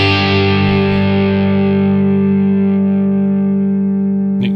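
A single electric guitar chord played through a PolyChrome DSP HyperRig with the sparkle tone control raised, loud and overdriven, ringing out and slowly fading before a brief pick attack at the end, no talking.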